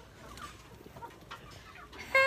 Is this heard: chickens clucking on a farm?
yes